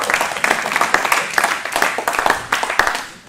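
Jazz concert audience applauding, a steady wash of many hands clapping at close range with scattered louder individual claps, sustained throughout without a break.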